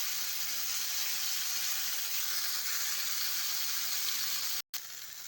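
Okra frying gently in oil over a low flame, a soft even hiss of shallow frying that runs steadily and cuts out abruptly near the end.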